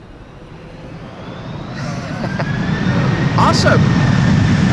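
An airliner lands in a crosswind on the Polderbaan runway 18R at Amsterdam Schiphol, its jet roar building steadily from fairly distant to louder, with a brief spoken exclamation near the end.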